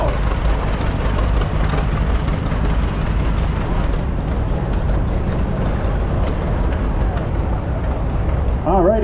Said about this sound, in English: up next we got a 1934 John Deere A that's owned by Ed Blast